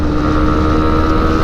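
Honda CB150R Gen-4 2021 motorcycle engine held at high revs near its 10,000 rpm limit, a loud steady whine with a strong tonal buzz, continuous and close with no talk.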